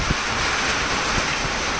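Steady rain hisses and patters during a storm with lightning and strong wind, a continuous wash of noise with a few soft thuds.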